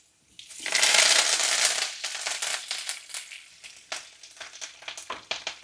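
Lentils, sliced garlic and chillies fry in hot oil for an onion chutney, bursting into a loud, broad sizzle that gradually eases into quieter crackling and spattering pops, close by with no talking.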